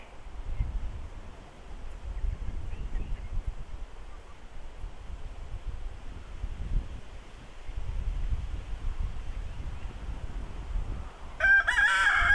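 Rooster crowing repeatedly among clucking chickens outdoors in a yard, with steady wind noise and low rumble throughout, the crows fairly close and recurring every few seconds.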